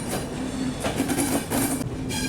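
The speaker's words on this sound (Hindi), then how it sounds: "चेन्नई एगमोर से निकलते ही अपनी ट्रेन ने जो ना भाई कर्व भी ले लिया" The GT Express passenger train rolls out of Chennai Egmore on a curve, a steady loud rumble of wheels on rails with faint clicking and a thin wheel squeal, heard from inside the carriage.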